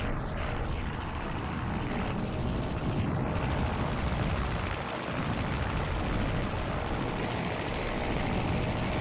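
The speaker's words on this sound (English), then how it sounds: "The Kate's pilot flies directly for a bank of cloud to escape the fire from the task force." A Kate torpedo bomber's propeller engine drones steadily in Task Force Admiral, a continuous broad roar at a constant level with no voices.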